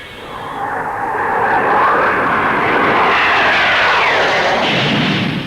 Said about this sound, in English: Blackburn Aircraft's contribution in the transonic field is the NA-39, a two-seater strike aircraft for the Navy